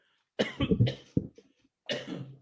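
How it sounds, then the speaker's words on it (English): A couple of dry, harsh coughs up close, with a short break before a final rasping cough. "I didn't want to cough into the mic."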